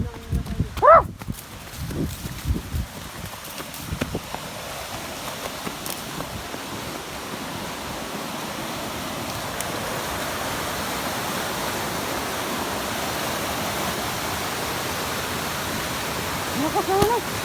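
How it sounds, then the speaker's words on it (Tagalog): A strong, rushing water current gives a steady, broad roar that builds and then holds loud throughout, with some clattering and a voice near the start. "Lakas na naman. Agos."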